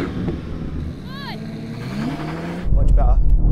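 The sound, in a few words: BMW M5 launching with brake boost in a drag race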